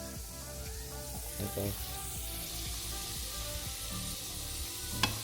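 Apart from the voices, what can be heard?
potatoes frying in a pan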